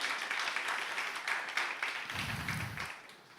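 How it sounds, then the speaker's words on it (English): An audience at the InnovateHER 2024 event gives a round of applause to a catering company, a dense, steady patter of many hands that gradually fades toward the end. "Round of applause to them"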